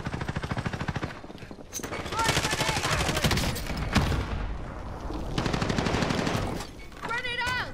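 Rapid gunfire in Call of Duty Warzone on Rebirth Island, loud repeated bursts of shots in quick succession with brief pauses between volleys, closing with a few scattered sound effects.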